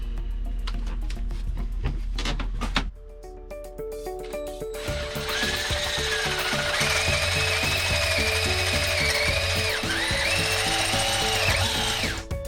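Power drill with an oiled bit boring into the metal thermostat housing of a Yanmar YSM8 inboard diesel engine, a loud steady whine close by that dips briefly and then grinds on as the bit cuts.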